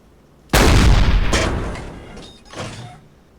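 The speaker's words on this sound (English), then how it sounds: "It's an awful lot of deck gunnery that happened there" A submarine deck gun firing in the Silent Hunter IV naval game: one loud, sudden booming shot that rolls out slowly, then a second, weaker boom shortly after, with no talk.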